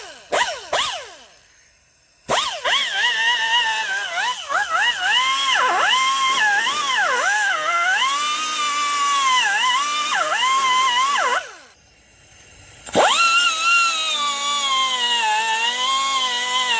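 A power tool fitted with a Scotch-Brite pad works on a 1964 Lemans restoration, giving a loud, high whine that rises and falls in pitch and cuts out twice before spinning back up.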